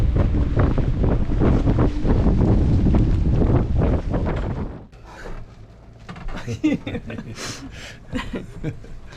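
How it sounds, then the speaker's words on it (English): Heavy storm wind roars and waves pound against a sailboat, loud and close, then ease into splashing water with a voice speaking briefly. "The waves are just pounding in and hitting our boat."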